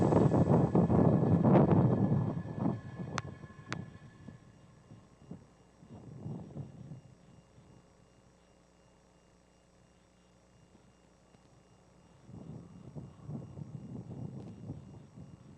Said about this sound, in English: successful liftoff of Falcon 9 from Space Launch Complex 4 East at Vandenberg